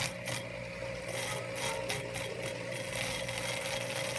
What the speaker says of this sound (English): now we're going to grind a little bit more. Get some more of this rust off